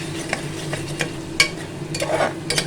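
Grated tomato is frying with fried onions in a pan. A soft sizzle runs underneath while a spoon stirs and scrapes, making several sharp, separate clicks against the pan.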